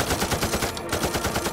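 Rapid automatic gunfire from a Hindi war film battle scene rattles on as fast, loud, evenly spaced bursts of covering fire, continuous through the short stretch.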